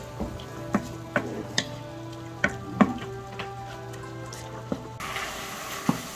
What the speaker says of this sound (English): this is browning too fast on me here